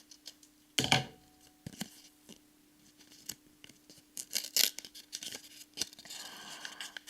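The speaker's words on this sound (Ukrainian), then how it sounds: "Беремо ножиці і відчиняємо його." Scissors snip open a small paper packet at close range, giving a few sharp crisp cuts and paper rustles separated by quiet gaps, faint overall.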